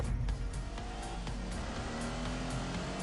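A supercar races along in The Grand Tour video game, its engine droning loudly and steadily with faint tyre noise, no voices over it.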